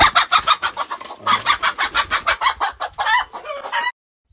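Chickens and a rooster at a rural homestead in the interior of Ceará, Brazil, give a rapid, rhythmic run of loud, close clucks merging into a drawn-out crowing call.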